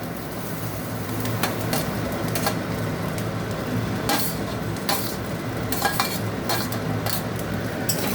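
Vegetables for shukta with fish (fried potatoes, eggplant, parval) being stirred and mixed in a pan, with repeated scraping and clinking of a utensil against the pan over a steady background sizzle, moderately loud and continuous with no talking.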